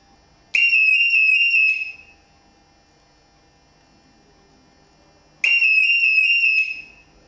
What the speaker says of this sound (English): the buzzer sounds at the beginning and the end of the button depression